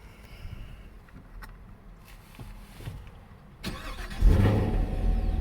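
A 2021 Chevrolet Camaro engine cranks and fires up close by, a sharp starter whir leading into a deep roar that settles into a loud, rumbling idle after some quiet interior clicks and shuffling.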